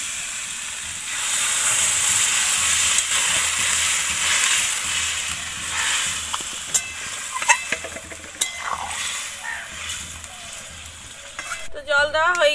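Water poured into a pan of frying jackfruit and potato masala sets off a surge of hissing steam and sizzling that lingers and softens, punctuated by a few sharp clinks of a utensil.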